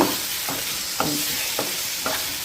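Ivy gourd pieces fry with onion masala in a pan, a continuous sizzle broken by four evenly spaced scraping strokes of a spoon stirring the mix.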